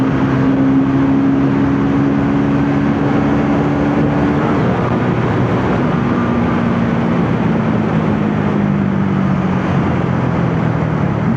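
A Triumph Speed T4 350cc single-cylinder motorcycle engine runs steadily and loud, its drone holding fairly even with slight pitch shifts, and no talk over it.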